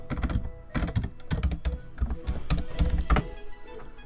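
Quick keystrokes clatter on a computer keyboard in short uneven runs of taps with brief pauses, close and fairly quiet, with no voices.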